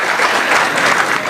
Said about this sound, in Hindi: ताली वाली बजा दो इनके लिए।